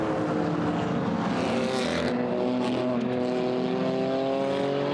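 GT4 race cars roar past at Brands Hatch, several engines howling together in rising and falling tones, loud and close, with one car passing near.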